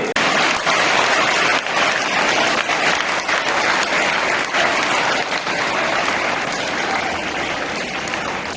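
An audience in a school auditorium breaks into steady, dense applause welcoming Father Periya to the stage at a retirement farewell, the clapping loud and sustained throughout with no break.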